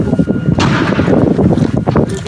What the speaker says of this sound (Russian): Периодически взрываются боеприпасы.